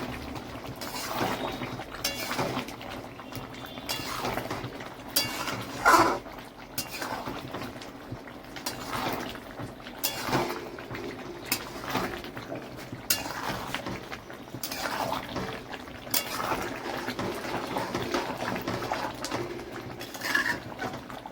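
Mutton with Kashmiri chili sautés in a pot, giving a low, steady sizzle broken by occasional scrapes and clinks of a utensil against the metal. The sounds run continuously at a moderate level.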